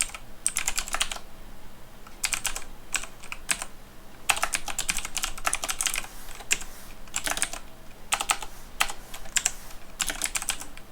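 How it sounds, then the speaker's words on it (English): Rapid clattering keystrokes come in bursts with short pauses between them, close and crisp, with no talking. "excuse my typing, apparently it's really bad tonight"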